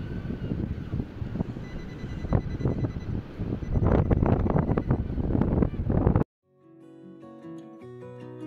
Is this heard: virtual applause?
no